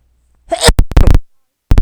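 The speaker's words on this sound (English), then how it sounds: "There's your sneeze." A loud, close sneeze with a sharp burst, followed by a couple of brief vocal sounds.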